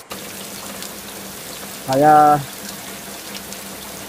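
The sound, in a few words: heavy rain in the forest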